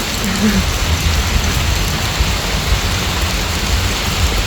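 Steady rain pours down on Sentosa Island, Singapore, with a dense, even hiss and patter on hard surfaces, continuous and fairly loud throughout.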